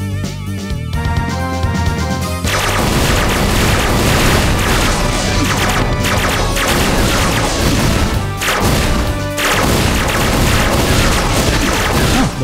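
Bomb explosion in a Wii video game: loud, dense booming crashes that fill the whole clip after a brief lighter opening, layered with game music and effects.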